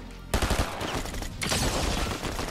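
A gun fires in Fortnite as a rapid burst of loud, dense shots, bursting in abruptly after a quiet moment, with a brief dip before more sustained firing follows, with no talk.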